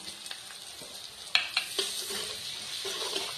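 Shidol dried fish goes into hot oil with lightly fried onions, and a soft background sizzle swells after a few sharp utensil clicks, then holds steady and close.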